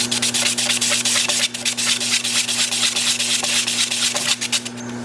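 A brush-mounted sanding pad rubs against a spinning natural-edge wooden bowl on a wood lathe, a loud continuous scratchy rasp with rhythmic pulses over the steady lathe motor hum.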